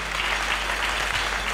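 A church congregation claps loudly and continuously during a sermon, a dense, even burst of applause from many hands filling the space for a short stretch.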